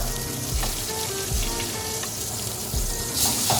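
Steak hits a hot pan beside fried rice and sizzles loudly and close, a steady frying hiss with small pops and stirring scrapes.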